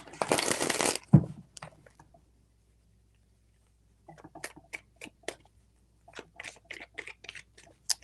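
Tarot cards are shuffled in a quick riffling burst at the start, followed after a pause by a series of light, crisp card snaps and taps at close range.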